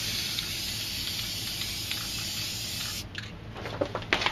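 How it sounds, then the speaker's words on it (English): Steady, loud hiss of a spray paint can putting down white paint, held a few feet back from the surface, running continuously for about three seconds before cutting off into brief softer bursts and rustling. "I'm going to spray some white here."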